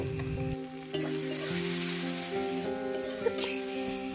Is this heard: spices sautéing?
yes